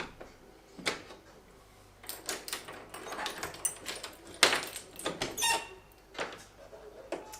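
A door fitted with a Tuya 3G alarm sensor is opened indoors, giving quiet clicks, a latch knock and soft scraping bursts against a faint background hum.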